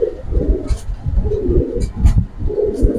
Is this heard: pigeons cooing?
yes